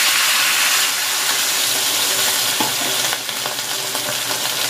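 Chicken broth poured into a hot pan of rosemary chicken legs gives a steady, loud, close sizzle and hiss that holds for several seconds, with a few faint stirring knocks.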